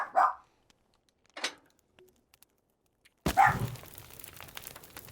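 Distant dog barks from next door come as two faint, brief yelps spaced apart, then a louder, rougher burst of barking with some background noise.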